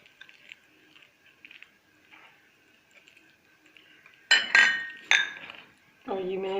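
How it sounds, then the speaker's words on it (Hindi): Chopped dates and almonds are stirred together in a bowl for a date cake, giving a few bright clinks and scrapes of a utensil against the dish after a stretch of quiet, fairly close and loud. "इनको आहिस्ता आहिस्ता हम मिक्स करेंगे।"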